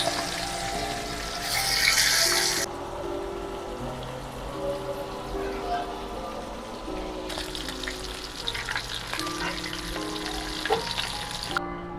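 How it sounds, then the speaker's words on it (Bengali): Small fish dropped into hot oil in a pan, a loud hissing sizzle bursting up early and again later, steady crackle between, close and alone. "তেলটা গরম হয়ে গেছে, তেলে দিয়ে দিব গুঁড়া মাছগুলো।"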